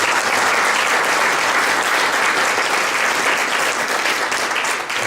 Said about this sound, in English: Reward deserves a round of applause before I move on